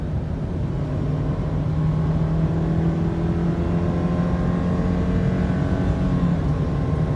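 A 2018 Subaru Forester with a 2.0-liter engine under kick-down acceleration, its steady engine drone climbing in pitch as revs build, loud and continuous from inside the car.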